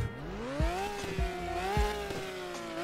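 Engine sound of a Porsche 911 GT3 in the Driving Empire video game, a steady, buzzy, harmonic drone that rises slightly in pitch, with a few soft periodic thumps, loud and close, heard alone.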